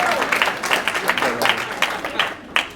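Audience applause at a speech event, a crowd clapping steadily with scattered sharper claps over a continuous patter for a few seconds.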